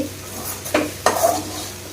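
Okra for a dry vendakkai varuval frying in a pan, stirred with a utensil: two distinct scraping strokes over a faint, steady sizzle, close and fairly quiet.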